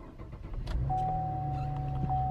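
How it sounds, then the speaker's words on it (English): A 2015 Chevrolet Camaro starting up: a short cranking burst followed by the engine catching and settling into a steady idle hum, with a thin electronic tone running over it, heard up close inside the car. "want to hear it start up"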